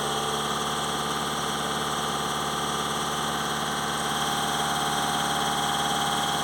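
A Volkswagen Tiguan engine with a DPF soot fault idles steadily and evenly, a continuous close mechanical hum with no revving or change in pitch.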